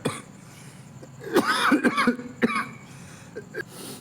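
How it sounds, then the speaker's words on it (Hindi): A few short coughs and throat-clearing bursts up close, scattered irregularly over a quiet background with no talking. "थोड़ा सा खांसी हो रखा है जिसके कारण ये साउंड का दिक्कत आ रहा है, खांसी आ रहा है।"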